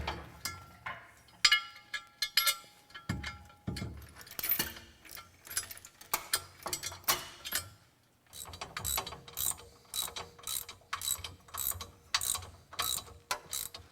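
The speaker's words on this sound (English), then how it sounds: "now I'm going to take the cross member here and bolt it up to the tranny" A hand ratchet bolts a transmission cross member into place during car motor assembly, sounding as repeated close clicking bursts in uneven runs, paused briefly midway, with occasional metallic clinks of tools and parts.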